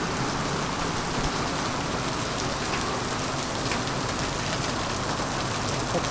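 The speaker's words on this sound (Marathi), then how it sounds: "खतरनाक पाऊस होतो" Heavy monsoon rain pours down in the Konkan countryside of Maharashtra, a dense, unbroken hiss of water hitting surfaces that stays loud and even throughout, with no voices.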